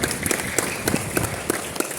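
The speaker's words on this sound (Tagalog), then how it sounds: "Pumalakpak ko na malakas sa Panginoon." A church congregation at an anniversary service applauding, a dense wash of clapping with sharp rhythmic beats roughly every third of a second, close and loud.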